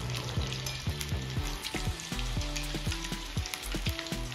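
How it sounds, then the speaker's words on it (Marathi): A blooming onion pakoda deep-frying in hot oil until crisp and golden, giving a continuous dense bubbling sizzle with sputtering pops throughout, close and steady. "इथे आपल्याला छान क्रिस्पी होईपर्यंत आणि गोल्डन कलर येईपर्यंत तळून घ्यायचे आहे ब्लूमिंग ऑनियन"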